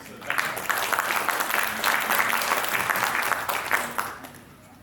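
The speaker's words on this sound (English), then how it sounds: "please, another round of applause for this" A conference audience at an EU-Vietnam semiconductors event in Ho Chi Minh City gives a round of steady applause, moderately loud and even, swelling briefly and then fading at the end.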